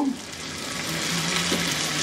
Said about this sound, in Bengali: আমি মিডিয়াম হিটে ভাজতেছিলাম, এখন একটু কমায় দেই, নাহলে পুড়ে যাবে